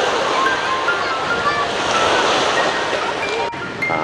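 Sea surf at Bãi Trước beach in Vũng Tàu on a foggy day with people bathing, heard as a continuous broad wash of breaking waves close by. The roar stays loud and steady, with a slight dip near the end.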